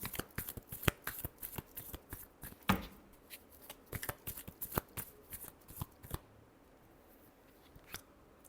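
Tarot cards are shuffled by hand up close in a quick series of crisp riffling snaps, which trail off into near silence with a final faint flick.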